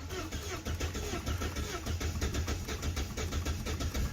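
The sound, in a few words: Volvo S40 car engine starting after fuel pump replacement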